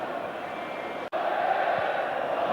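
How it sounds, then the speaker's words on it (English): Wembley football crowd chanting after England's fourth goal against Greece, a dense, steady roar of many voices from a distance, with a commentator speaking over it. "The Wembley crowd chanting 4-0"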